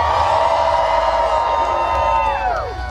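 A crowd at a Halloween haunt event yells and cheers loudly, a dense wall of whoops and shouts that swells and then tapers off toward the end.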